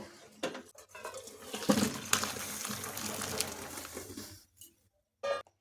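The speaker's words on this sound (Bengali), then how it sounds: "এখন এটা জল ছেঁকে নেব" Boiled cauliflower is strained, with water pouring and splashing for several seconds amid clinking pot sounds, then fading into quiet with a brief final rattle.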